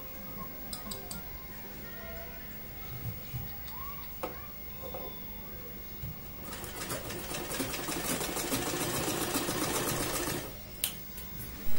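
A sewing machine stitches lace onto fabric for a blouse, starting with scattered ticks and clicks, then running in a fast, steady rattling stitch for several seconds before stopping.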